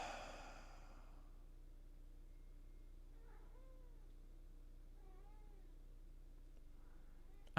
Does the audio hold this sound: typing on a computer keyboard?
no